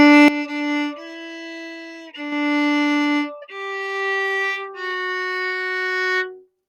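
A string instrument picks out the opening line of Happy Birthday as six clean, sustained single notes in a gentle, even rhythm, played alone with no talk.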